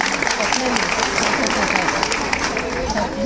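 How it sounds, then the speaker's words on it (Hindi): Dense, energetic clapping from an assembled audience at a Jain pichhika parivartan ceremony in Indore, continuous throughout with murmuring voices mixed in. "सभी लोग अपने लिए जोरदार ताली बजाएंगे"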